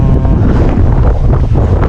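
Strong wind during Typhoon Ulysses in Pangasinan, Philippines, roars and buffets the microphone continuously, loud and rumbling, with a faint watery wash underneath and no voices.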